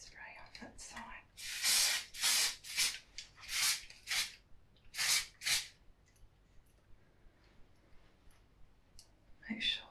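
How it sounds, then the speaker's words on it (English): Hairspray hisses onto one side of dyed rose-colored hair in bursts of several separate sprays with short pauses between them, close and fairly loud, and light handling clicks at the start and end. "I'm just going to put some hairspray on that side."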